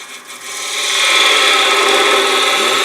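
A woodturning gouge cuts into spinning wood on a lathe while shaping a sea urchin ornament, giving a loud, continuous close-up rasping hiss that swells within the first second and holds steady.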